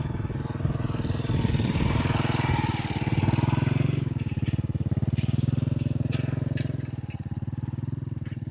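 A motorcycle engine runs close by on a farm track in Botad village. It holds a loud, steady chugging idle whose tone eases slightly midway and then continues evenly to the end.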